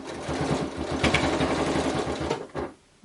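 Close and fairly loud, a sewing machine chatters rhythmically while back stitching a fabric door stopper, then stops with a brief clunk near the end.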